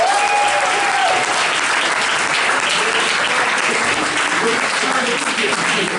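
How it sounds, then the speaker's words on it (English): A crowd at a policy forum event gives the winning team a round of applause, producing a continuous, even wash of clapping that holds steady and loud for several seconds with no talking over it. "let's go ahead and give Team A a round of applause."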